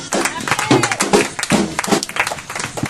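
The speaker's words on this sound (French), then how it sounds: "Acclamez s'il te plaît." A church congregation claps and cheers on cue during a French-language sermon, a dense, continuous wash of applause heard close, with voices mixed in throughout.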